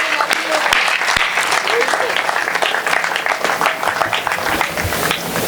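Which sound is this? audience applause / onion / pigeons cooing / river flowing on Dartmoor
audience applause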